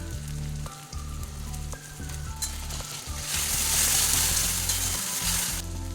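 Ginger, garlic and green chili paste hits hot oil with spices and onion, giving a steady close sizzle that swells louder and brighter midway, with a few scraping stirs and no voices.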